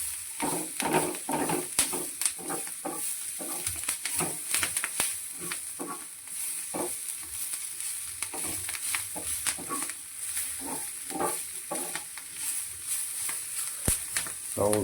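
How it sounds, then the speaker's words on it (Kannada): Food frying in a pan sizzles steadily while repeated scraping and stirring strokes come through close by for the whole stretch. "ಚೆನ್ನಾಗಿ ಫ್ರೈ ಆಗಬೇಕು."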